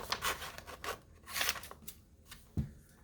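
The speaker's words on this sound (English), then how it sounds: "So I'm going to cut this out." Scissors snip through glossy magazine paper in a few quick, close bursts of crisp cutting and rustling, with a short pause and a soft thud near the end.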